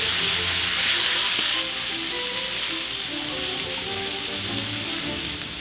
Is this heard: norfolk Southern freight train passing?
no